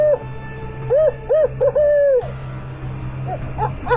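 A recorded barred owl call played at night through a device to lure animals: a loud series of rising and falling hooting notes ending in a long drawn-out call over a low hum, followed by fainter distant hoots.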